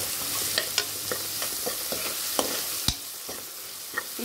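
A chickpea curry fries in a pan with a constant sizzle as chili powder goes in, while a spoon stirs and scrapes in a series of sharp, irregular clicks close by.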